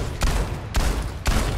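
Three heavy video game gunshots in Overwatch 2 boom at a steady pace, each a sharp burst followed by a rumbling tail, loud and close.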